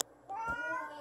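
A domestic cat meows once, a short rising-and-falling call at close range that stands out clearly against a quiet indoor room.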